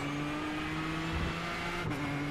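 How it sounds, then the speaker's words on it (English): Ford GT race car engine in the iRacing video game, a steady droning hum at constant pitch, fairly faint and continuous with a slight shift near the end. "I like the sound of the Ford GT."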